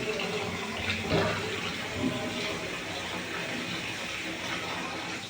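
Water drains from a bathtub during a test of newly installed bathroom fixtures, a steady close rushing and gurgling wash that runs continuously without a break.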